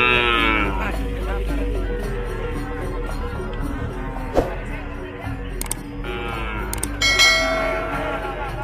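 Cattle at a busy livestock market on Pulau Sapudi, Indonesia, lowing and mooing close by over steady crowd murmur, with occasional knocks and clangs in the background.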